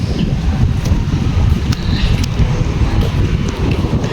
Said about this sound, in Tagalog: Mahangin dito, masarap po.